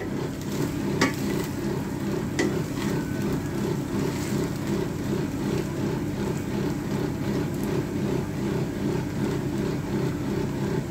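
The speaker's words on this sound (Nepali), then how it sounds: "यसमाथि हामीले बनाएर राखेको राइस लगाइदिने, मजाले मिक्स गर्ने।" Cooked rice stirred through tomato ketchup in a pan for shrimp fried rice, a steady scraping stir over a continuous low sizzle, with a few sharp clicks from the utensil against the pan.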